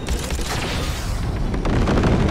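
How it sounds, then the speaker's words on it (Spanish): Fireworks burst in Cyberpunk 2077, a dense run of booming, crackling explosions that overlap into a continuous loud roll with scattered sharp pops and no speech. "Qué bonitos fuegos artificiales."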